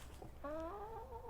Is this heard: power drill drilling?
no